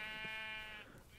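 A single short bleating animal call in Minecraft, given as a cow, with a harmonic wavering tone lasting under a second, faint and close, fading into quiet background.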